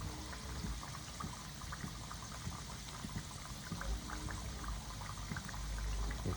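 Cassava pieces frying in hot oil give a steady, dense sizzle of bubbling and crackling that holds at a fairly even level throughout, with no voices.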